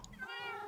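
A cat in a video game gives one short, fairly faint meow that rises and falls in pitch, heard alone.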